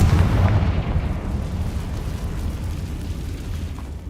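A Confringo blasting spell explodes in the video game Hogwarts Legacy, opening with a deep, heavy boom that trails into a long, rumbling, crackling decay.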